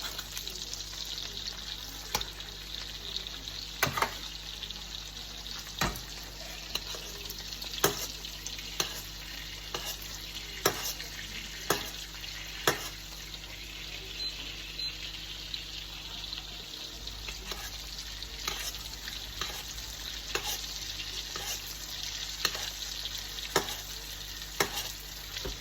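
Veal sweetbreads sizzle steadily in a pan, with a series of soft clicks and taps as the pieces are turned, quiet and close with no talking.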